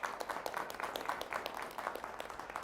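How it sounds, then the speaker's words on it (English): Applause from an audience honoring spelling bee finalists, a steady patter of many hands clapping throughout, moderately distant and fairly soft, with no clear voices over it. "I think a round of applause is in order for all of our finalists"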